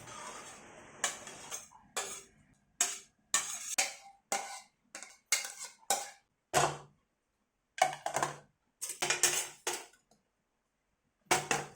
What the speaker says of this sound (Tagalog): Linisin ang mga tira-tirang pagkain sa plato at kubyertos.